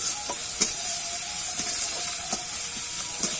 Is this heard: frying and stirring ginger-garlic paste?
yes